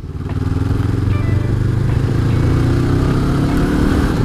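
Honda CB500X adventure motorcycle engine heard while riding, a steady, loud low rumble with continuous throbbing pulses and wind noise throughout, no talking.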